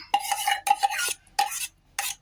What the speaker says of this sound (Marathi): आता हे पण आपण मिक्स करून घेऊया।